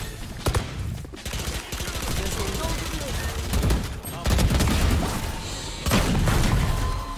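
Valorant gunfire rattles in dense bursts through most of the clip, loud and close, with heavy thumping impacts. Players talk excitedly over the shooting.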